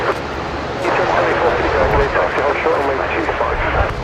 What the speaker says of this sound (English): the Jetstar Dreamliner cleared for takeoff. Runway 16 right.